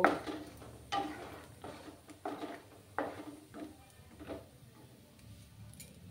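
Peanuts frying and being stirred in a pan, a series of light clattering taps and scrapes at irregular intervals, fairly close and soft against a quiet background.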